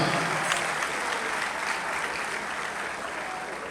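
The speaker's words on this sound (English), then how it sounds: "A round of applause" Steady applause from a large university lecture audience fills the space, a dense wash of clapping that tapers off slightly toward the end.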